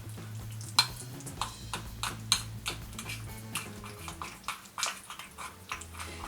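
A homemade clay face mask being stirred in a bowl, with steady close scraping and clinking of the utensil against the bowl in irregular strokes, no voices.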